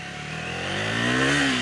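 A Triumph Scrambler 400 XC motorcycle rides past, its engine note rising in pitch as it revs and accelerates, loud and close for a short burst with no voices.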